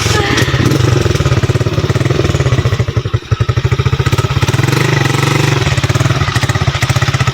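A motorcycle engine misfires on a narrow, muddy, slippery road near Baguio, giving a loud, steady stutter of rapid, uneven pulses that runs through the whole stretch, with a brief dip partway through.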